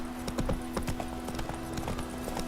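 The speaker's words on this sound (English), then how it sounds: "Whoa there, Roach" Horse hooves clip-clopping at a steady walking pace in The Witcher 3, a regular rhythm of close hoof strikes over a constant background hum.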